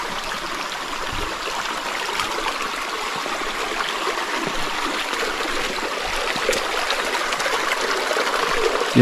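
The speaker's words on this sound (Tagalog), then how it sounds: "yung ingay ng mga tubig mga tol." A forest stream rushes and trickles in a steady, close wash of water noise, unbroken throughout on a quiet morning among large trees.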